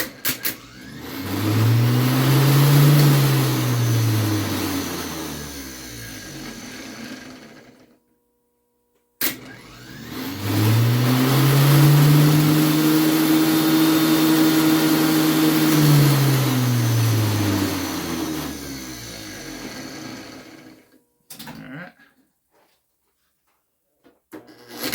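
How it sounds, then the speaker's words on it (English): The 6-volt starter motor from a 1952 Pontiac Chieftain spins freely on 12 volts, two long, loud whining runs that rise in pitch as they spin up and fall as they wind down, separated by a brief silence. "do it on 12, because that 6-volt starter will handle 12. It'll just spin like a bat out of you know where"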